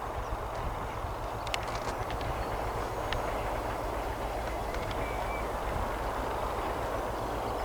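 A long freight train of carriages carrying quarry stone rumbles past at a distance, a steady low drone with faint clanks and squeals, continuous and fairly quiet with no talk.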